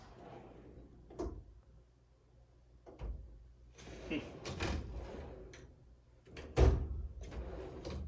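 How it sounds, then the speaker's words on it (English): A Husky toolbox drawer on 120-pound rated soft-close slides shuts several times with soft rolling rumbles and a muted thump near the end, up close in a quiet room. "120-pound rated soft close drawer slides"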